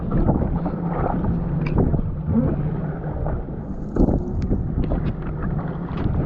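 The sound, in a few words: jet ski ride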